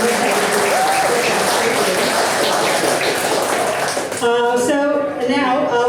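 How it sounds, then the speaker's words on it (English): A crowd at a Bangladesh charity gig in a pub claps for a keyboard player, a loud, dense burst of applause that fades near the end as sustained keyboard notes ring out alone. "So please another round of applause."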